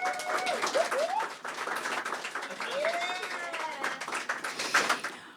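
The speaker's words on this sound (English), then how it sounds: "So please give her a round of applause." Audience applause for a board member at a Women's Day event, a steady patter of clapping beneath voices that talk over it throughout.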